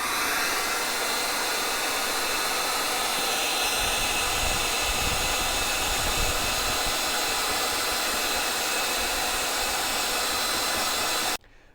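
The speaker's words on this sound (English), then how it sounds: "I'm just going to use a blow dryer and a plastic razor blade to attempt to get it off." Blow dryer running steadily at close range while heating tape residue on a BMW's paint, a constant loud airy whir that cuts off sharply near the end.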